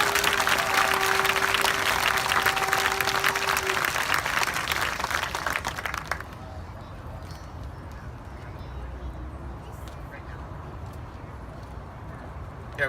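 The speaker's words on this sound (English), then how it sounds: "could we please give all the people that put in time for this rally a round of applause?" At an outdoor solidarity rally in Portland, Oregon, a crowd breaks into dense, loud applause for the volunteers, with cheering mixed in. After about six seconds it drops suddenly to a quieter murmur of crowd noise.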